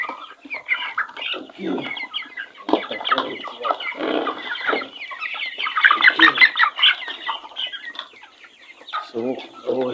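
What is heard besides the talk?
broiler chickens clucking in a pen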